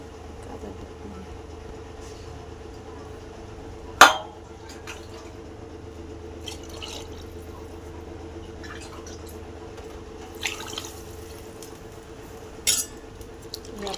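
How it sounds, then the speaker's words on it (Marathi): Water poured into a pot of chicken pulao ingredients, a steady low liquid splash and trickle over a constant hum, with a sharp clink near the start and a few small knocks later. "ह्याच्यात पाणी टाकते"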